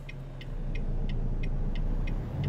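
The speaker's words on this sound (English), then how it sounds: "it is actually a Cummins ISX engine" A Cummins ISX truck engine in American Truck Simulator idles with a steady low rumble, while a regular ticking, like a turn signal, clicks evenly on top of it.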